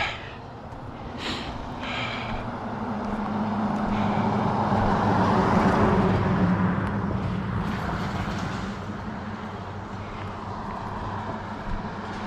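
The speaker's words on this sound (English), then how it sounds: "I'll wait for this car to go by." A car approaches on a rural road during an evening walk, its tire and engine roar rising gradually to a peak around the middle, then fading as it passes into the distance.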